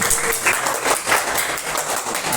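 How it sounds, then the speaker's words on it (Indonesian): A classroom of students applauds for a classmate, a dense burst of many hands clapping together, loud and continuous throughout. "Tepuk tangan untuk Zidan"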